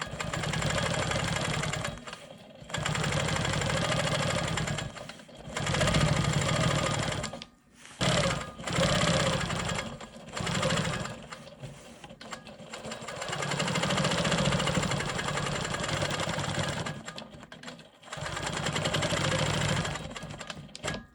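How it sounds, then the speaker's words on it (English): A sewing machine stitches in the ditch around the outer edge of a rolling stone quilt block, running in steady mechanical bursts with several short pauses between runs. "I'm going to go ahead and stitch in the ditch around the perimeter of this block"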